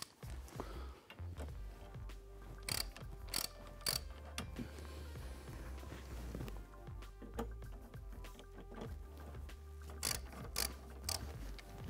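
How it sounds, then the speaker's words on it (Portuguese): Metallic ratcheting and clicking of a 14 mm wrench breaking the torque on the wiper arm nuts of a 12th-generation Toyota Corolla, with several sharp clanks standing out over steady mechanical ticking, close and moderately quiet. "com o auxílio de uma chave 14 milímetros, nós vamos fazer a quebra do torque desses braços"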